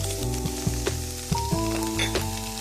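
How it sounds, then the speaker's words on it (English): Pizza-roll seasoning mix being stirred in a sizzling pan: loud, continuous frying hiss with several scraping strokes and taps of a spoon against the pan, up close with no talking. "Go ahead and mix that until it's well combined."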